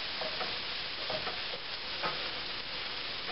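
Onions frying in a pan, cooked nice and dark, giving a steady close sizzle with a few soft stirring scrapes, no voices.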